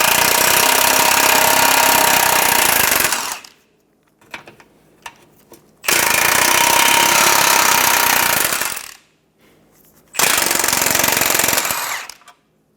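An impact wrench removes 14mm nuts on an engine mount under a 2014-2019 Toyota Highlander, firing in three loud sustained bursts of several seconds each, with quiet gaps and small clinks between.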